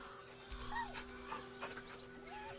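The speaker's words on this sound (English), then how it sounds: "The dog whimpers nervously," A dog in the video game Baldur's Gate 3 whimpers nervously, giving several faint, high, wavering whines and small yips over a quiet background hum.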